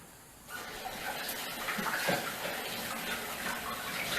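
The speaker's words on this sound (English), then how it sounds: "Let me wash my hands off really quick." Water running from a kitchen tap while hands are washed during sushi preparation, a steady rushing splash that starts abruptly and continues at an even level, close and alone.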